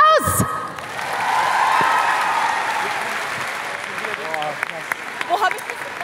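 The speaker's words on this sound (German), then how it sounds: "Applaus!" A Berlin world-premiere crowd for the second season of a TV series bursts into loud applause and cheering, with whoops and voices rising over steady clapping that swells then fades into scattered shouts.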